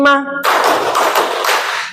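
A group of students claps together in a counted classroom clapping game, a dense burst of many hands following a short spoken call at the start.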